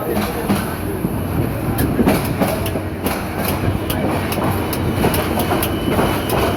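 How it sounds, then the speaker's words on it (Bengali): Mohanagar Express, a Dhaka–Chittagong intercity train with Korean brakes, rolling into Dhaka Kamalapur station at night, with loud continuous rumble and repeated sharp clickety-clack wheel beats passing close by. "ঢাকা কমলাপুর রেল স্টেশনে প্রবেশ করছে মহানগর গুদুলি"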